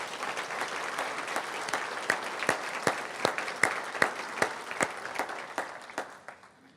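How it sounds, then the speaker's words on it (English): Audience applause honoring paramedic Clay Stamp at a public safety award event: fairly sparse, distinct claps that swell with stronger accented hits midway, then thin out and fade toward the end. "I want to give Clay a round of applause"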